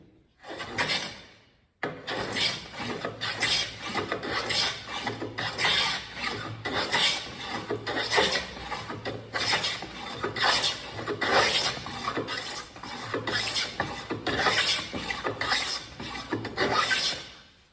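A manual hand plane shaves the edge of a wooden board with a shallow blade setting, giving repeated loud rasping strokes in a steady back-and-forth rhythm close by, one after another for over fifteen seconds with no talking.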